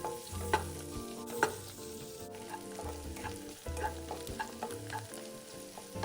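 Finely diced shiitake mushrooms sauté in a few spoonfuls of fried shallot oil, giving a steady soft sizzle with occasional scraping stir strokes beneath background music.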